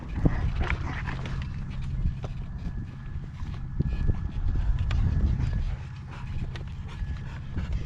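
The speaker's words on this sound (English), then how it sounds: "Those dogs." Big dogs move about outdoors during a gale-force wind storm alongside a horse. Faint dog sounds mix with hoof clops, footsteps and rough wind noise throughout.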